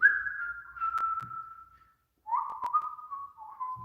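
A person whistles two sustained, slightly wavering tones separated by a short pause, close and moderately loud, with faint clicks and no speech.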